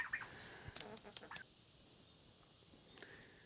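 Chickens and turkeys near a farm pond are offered freshly skimmed wet duckweed, giving a few faint, scattered clucks close by over a quiet background.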